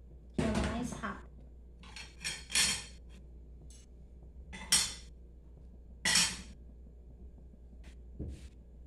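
A pot of rice is shifted onto a stove burner, giving a series of sharp metallic clanks and scrapes, several distinct knocks spaced irregularly with quiet gaps between them, close by.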